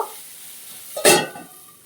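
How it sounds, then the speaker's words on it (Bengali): Eggplant frying in a pan gets a single quick stir, one short scraping burst over a low steady sizzle, close and fairly quiet, with no talking. "এবার এটা নেড়ে নিচ্ছি"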